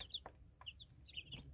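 Soft, low clucking of a mother hen tending her baby chicks, a few short clucks mixed with faint high peeps from the chicks, close and quiet.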